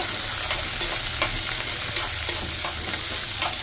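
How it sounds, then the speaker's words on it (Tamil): Shallots and garlic stir-fry with anchovy fish over medium flame in a dense, steady sizzle, with regular spatula scrapes sounding about every half second, close and loud with no voices. "கட் பண்ணி வச்சுருக்க சின்ன வெங்காயம், அதுக்கப்புறம் பூண்டு, இதெல்லாம் போட்டு நல்லா மிக்ஸ் பண்ணிக்கோங்க"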